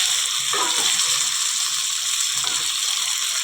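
Ground spice paste hitting fried potatoes in a kadai, a steady sizzling hiss with a couple of short scraping, clattering stirs.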